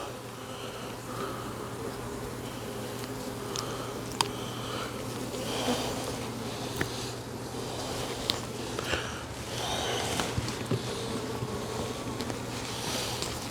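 Honeybees swarm during a hive cutout as their comb is removed and rebuilt, a steady close buzzing drone running throughout with scattered handling knocks and clicks.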